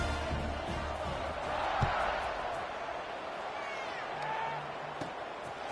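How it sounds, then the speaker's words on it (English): A football stadium crowd buzzes after a touchdown, a broad, steady distant roar with faint cheers, under a commentator's voice. "this crowd is buzzing after that last score"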